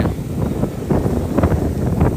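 Wind buffets a microphone on Bang Saen beach in Chonburi, Thailand, a steady low rumble with gusty swells throughout, no voices.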